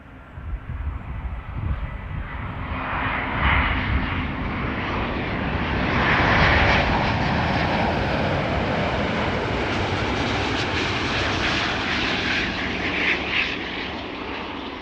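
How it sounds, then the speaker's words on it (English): China Southern Airlines Airbus A350 jet arriving at Amsterdam Schiphol, a loud sustained roar that swells as it passes close by and then holds as a broad rushing engine drone, heard alone. "This is China Southern Airlines, flight 307, arriving from Guangzhou in China. A350"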